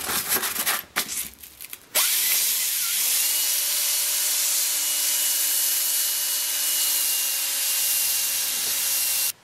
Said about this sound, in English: Now I'm just going to use some 400 grit sandpaper and the drill to smooth it up.